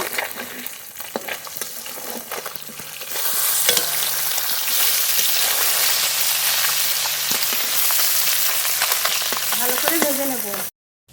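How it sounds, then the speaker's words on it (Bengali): River puti fish frying in an oiled pan, with a strong, steady sizzle that grows louder after a few seconds and continues for the rest of the clip. "মাছ খুব ভালো করে ভেজে নিয়েছি"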